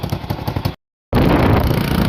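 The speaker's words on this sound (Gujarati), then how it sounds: "અત્યારે બાઇકથી નીકળી ગયા છીએ બંને ભાઈ" A motorcycle engine puts out a rhythmic, pulsing idle up close. After a short silent break, a louder, steadier engine drone continues to the end.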